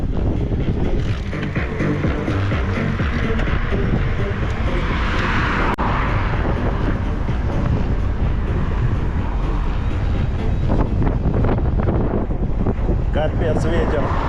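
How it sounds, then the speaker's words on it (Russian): Strong headwind roaring into the microphone during a ride on the Crimean coast near Feodosiya and Koktebel, a loud, continuous buffeting rumble throughout with no voices. "Капец, ветер."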